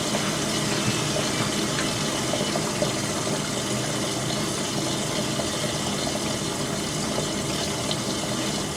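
An Indesit WN1196WG Ecosense washing machine draws in water for its second rinse, a steady hiss and rush of filling water with a faint pump hum underneath, constant and close.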